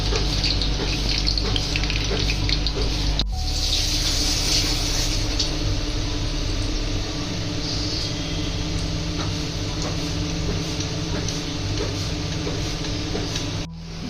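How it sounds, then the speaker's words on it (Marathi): Water drains and pours from soaked ingredients in a kitchen sink, a constant rushing flow that stays loud and close for the whole stretch, with a brief clunk partway through and no voices. "जे आपण पाण्यात भिजवलेले होते ते आपण पाणी जे सगळं काढून घेणार आहेत"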